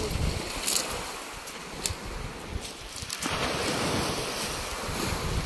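Sea surf washes continuously against a rocky shore, a broad roaring rush with gusts of wind buffeting the microphone.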